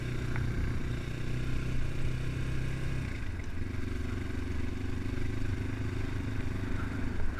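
A Progasi Gaudi 300 motorcycle being ridden, its engine droning steadily and close up, with a drop in pitch a few seconds in as the rider eases off or shifts, and the engine note continuing after that.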